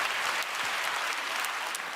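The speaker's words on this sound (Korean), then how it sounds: "품위 있는 박수를 받으니까 기분이 좋네요." Church congregation applauding steadily and evenly throughout, a dense close clapping texture with no talk over it.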